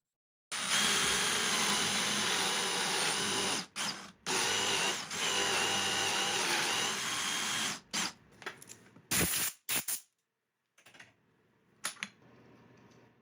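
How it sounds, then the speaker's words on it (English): Loud continuous whine of a power drill boring a hole in wood through a clamped drill guide jig, running for several seconds, then stopping and starting in short bursts before fading. "and go to town boring the hole."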